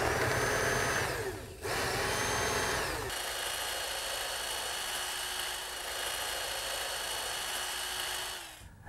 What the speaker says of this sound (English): we're going to drill some drainage holes in the bottom of the box right here.